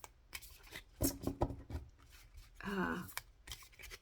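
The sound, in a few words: shuffling stiff oracle cards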